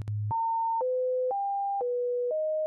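Computer-generated sine wave tones at random pitches step from one steady pure note to the next about every half second after a brief low hum, clean and loud with no voices.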